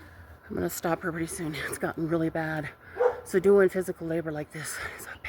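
A neighbour's new dog barks and yips repeatedly in a Colorado backyard, close and insistent, while someone talks over it throughout.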